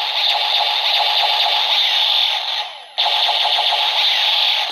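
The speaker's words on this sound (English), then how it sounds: "And you can push the button to activate your shooting noise." Kyuranger DX Seiza Blaster toy gun plays an electronic rapid-fire shooting effect, loud and continuous, with a brief dip at about three seconds before it resumes at full volume.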